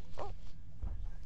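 A puppy gives a couple of short barks and yips, close by and moderately loud, with a faint whimper between them and no speech.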